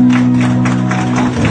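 An audience applauds His Excellency Daouda Diabaté at a Dan association gathering: a short, loud burst of clapping over a steady droning tone.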